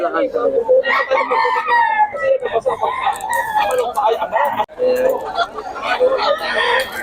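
Chickens and roosters at the Bocaue market in Bulacan, with repeated harmonic crowing and clucking calls rising over one another, close and loud, while people talk in the background.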